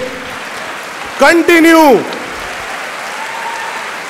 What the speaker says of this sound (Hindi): तालियां बजनी बजते रहनी चाहिए.